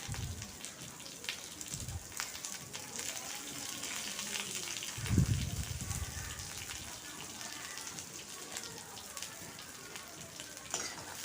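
Small shallots and large onions fry in a pan, giving a steady crackling sizzle throughout with a few louder stirring scrapes near the middle and no talk.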